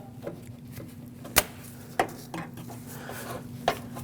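Pliers click and clink against metal hose clamps on a 2009–2015 Honda Pilot power steering reservoir, giving a few sharp, isolated metallic snaps over a steady low hum.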